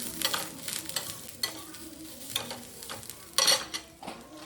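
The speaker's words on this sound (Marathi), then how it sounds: "मिरच्या भाजल्या की भाजू झाल्या की यामध्ये लसूण पण टाकला" Green chilies and garlic roast in a pan, giving a steady low sizzle and repeated stirring scrapes that rise and fall in short bursts, with occasional louder clinks of the utensil against the pan and no talking.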